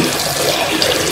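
Water runs steadily from a kitchen tap, a continuous broadband hiss and splash filling a jug at close range, with no talking over it.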